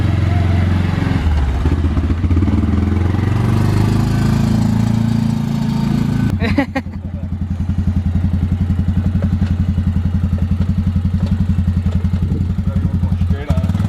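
A new Can-Am Outlander 450 ATV's engine runs loud and close while being ridden. A rough, busy roar settles about halfway into a steady, rapid thumping putter.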